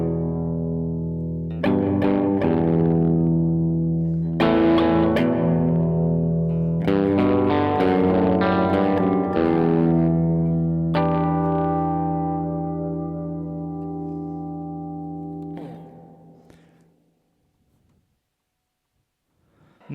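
Distorted electric guitar through a Strymon Blue Sky reverb pedal set to full bass, chords ringing out darkly with a long washy tail that fades to near silence near the end.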